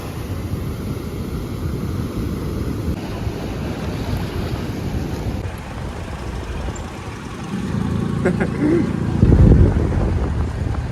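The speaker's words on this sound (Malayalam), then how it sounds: "ഭയങ്കര ശക്തിക്കാണ് കേട്ടോ തിരമാലയൊക്കെ അടിക്കുന്നത്" Strong ocean waves crash and surge at RK Beach in Vizag, a continuous loud roar thickened by wind noise on the microphone, with a heavier breaker swelling up near the end.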